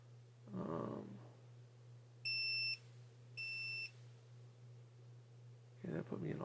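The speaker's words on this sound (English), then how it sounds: "The other thing about this one is the beeping." A handheld electronic test meter gives two clean, sharp beeps, each about half a second long with a short gap between them, set against a low steady hum, with a voice speaking before and after.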